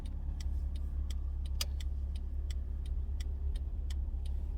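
Car interior during a driving lesson: a steady low engine hum and road rumble as the car pulls out and turns left, with faint regular ticking like a turn signal throughout.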